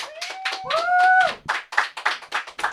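A small open-mic comedy crowd claps for a comedian, with distinct uneven handclaps from a few people and a voice letting out a rising whoop partway through.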